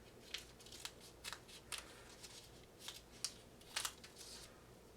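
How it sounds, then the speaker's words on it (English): Small pointed paper scissors snipping a paper snowflake, a quiet series of crisp, closely spaced cuts in uneven rhythm, heard up close with no talking. "be sure you're using paper scissors, not your sewing scissors"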